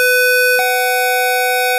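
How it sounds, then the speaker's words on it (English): Two synthetic square-wave tones at 500 and 750 hertz sound together as a steady, loud electronic chord, with a slight glitch just after half a second, held for under two seconds with no talking. "Play the two square waves together, one at 500 hertz and one at 750 hertz,"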